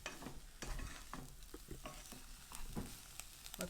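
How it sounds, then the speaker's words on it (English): Cracked wheat pilaf is stirred in a pan, giving faint scraping and tapping strokes over a soft sizzle that repeat unevenly. "Okay, I'm gonna give this a mix."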